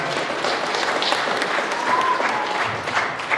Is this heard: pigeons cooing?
no